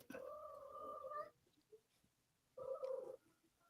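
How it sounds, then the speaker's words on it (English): A pet cat meows twice, a long drawn-out call lasting over a second, then a pause and a second shorter meow, close and fairly loud in a quiet room. "I'm hearing a cat."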